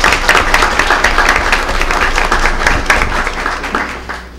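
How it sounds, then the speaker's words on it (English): Audience at a school board meeting applauding staff members, a dense, steady wash of many hands clapping at close range that holds loud throughout and eases slightly toward the end. "Please join us in applauding these staff members for their assistance this evening."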